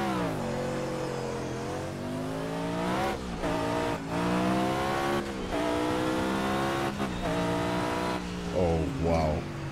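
A race car in Project Cars revs and accelerates hard through the gears, its engine note climbing steadily then dropping at each shift, loud and close over roughly ten seconds.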